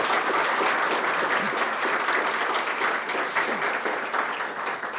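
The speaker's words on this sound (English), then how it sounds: "so if you'll give them a round of applause." Steady applause from an audience at a school distinguished alumni celebration ceremony, dense clapping filling the room for about five seconds and tapering slightly toward the end, with no talk over it.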